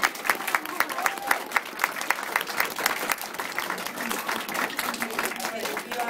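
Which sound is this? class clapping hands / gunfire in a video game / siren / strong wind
class clapping hands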